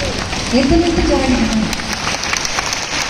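A seated audience at a spiritual gathering rises and claps loudly, a dense wash of applause filling the room while a voice speaks over it near the start.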